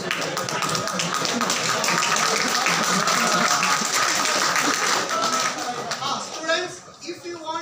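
A roomful of students at an engineering college in Bangalore clap together in a dense, steady burst that tapers off near the end as voices begin to talk.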